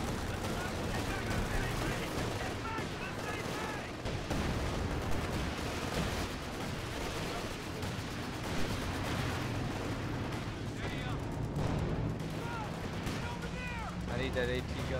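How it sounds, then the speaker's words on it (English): Anti-tank gun fire in a Company of Heroes match, heavy booming shots amid dense continuous battle noise of gunfire and artillery, with people talking over it throughout. "Your AT gun's chasing them. You just set it up and it'll attack it by itself."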